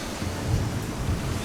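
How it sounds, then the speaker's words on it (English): A rain and thunderstorm sound effect: low thunder rumbles steadily under a dense, even wash of falling rain, close and continuous throughout, with no voices. "as you get nearer, the rain begins to fall."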